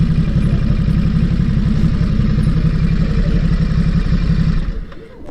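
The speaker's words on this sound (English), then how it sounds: "let's park the bike" A motorcycle engine idles steadily and close as the bike is parked, a constant low throbbing rumble that cuts off abruptly near the end.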